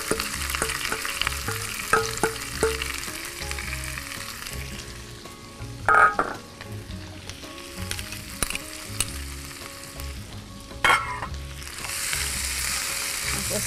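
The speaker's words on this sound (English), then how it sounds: "just saute all that together so that you actually cook the spices quite nicely" Marinated soya mince sautéing with spices in a pan sizzles steadily up close, with stirring scrapes and two louder clatters of the utensil against the pan, no speech.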